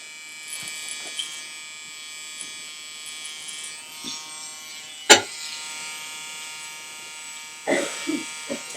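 An electric hair clipper with a number 2 guard trims and tapers a man's short haircut, buzzing steadily and close throughout, with a few brief rustles and knocks.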